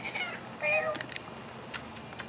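A large male house cat meows softly a few times in a short burst, close by and fairly quiet, followed by faint clicks.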